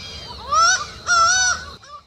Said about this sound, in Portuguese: espantou um grande pássaro escuro que ali parecia pousado